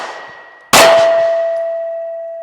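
A single close bullet strike on a steel cowboy shooting target, a sharp metallic clang that leaves a long, clear ring slowly fading over two seconds, with no talk.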